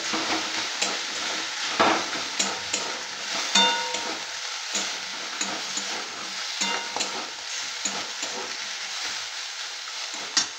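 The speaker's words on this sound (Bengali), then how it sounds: "এটাকে একটু কষিয়ে নিতে হবে।" Vegetables sautéing in a pan for a Bengali panchmisali dish, a steady bed of sizzling and frying noise running throughout, broken by repeated clinks and scrapes of a spoon stirring against the pan, close and fairly loud with no talk.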